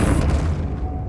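The Depulso force spell cast in the Hogwarts Legacy video game, a single loud deep booming blast that decays quickly.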